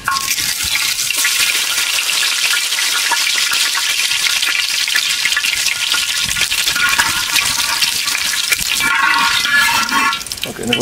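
Curry leaves frying in hot oil, a dense, loud, continuous crackling sizzle that holds steady throughout with no talking.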